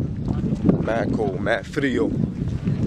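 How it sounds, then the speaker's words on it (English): Loud wind rumbles across the microphone outdoors in Greece as a person speaks briefly over the gusts. "It's mad windy, so sorry if y'all can barely hear me."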